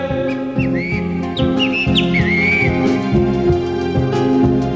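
Whistled calls imitating a great kiskadee's shrill cry ring out over steady rhythmic folk-song backing.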